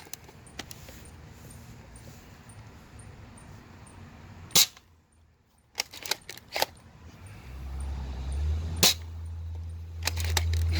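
A Nerf sniper blaster fires at a target outdoors: several sharp, loud single pops spaced irregularly over quiet background, with a low rumbling noise rising toward the end.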